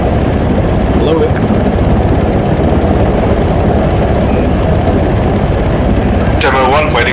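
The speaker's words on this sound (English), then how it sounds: "Doug, Cap, are you guys calling in a helicopter?" Helicopter rotor and engine drone in the Arma 3 military video game, a steady dense low rumble that persists throughout, with a brief higher whine near the end.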